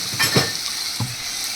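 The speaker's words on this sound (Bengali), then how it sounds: "এবার এর মধ্যে দিয়ে দিচ্ছি কিছুটা জল।" Water hits a hot pan of coconut potol korma, giving short bursts of hiss and sizzle over a soft, steady frying noise, brief and fairly quiet.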